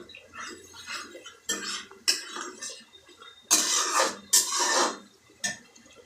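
Spice paste sautéed in a pan, stirred with a utensil: a handful of scraping, clattering strokes in separate bursts, close and moderately loud, with short quiet gaps between them.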